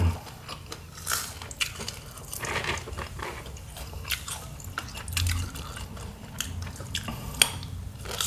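Crunchy deep-fried sugarcane grubs are bitten and chewed up close, giving a run of sharp crackling crunches and wet chewing sounds with no talking.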